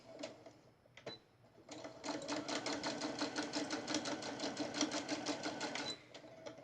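A sewing machine stitching a charm square bag's handles and lining together runs in a fast, even burst of rapid needle clatter for about four seconds, close and fairly quiet, with a few short taps and pauses before and after.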